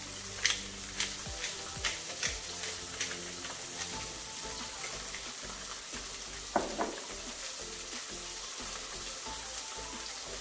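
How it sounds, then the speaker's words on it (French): Red mullet fillets, salted and peppered, fry gently skin side down in a pan, giving a soft continuous sizzle with scattered light pops and clicks of the pan and utensils. "on va laisser cuire doucement, juste d'un seul côté"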